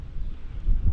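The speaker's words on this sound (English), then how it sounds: "It's very windy again," Wind buffeting a microphone in low, rumbling gusts, briefly louder toward the end.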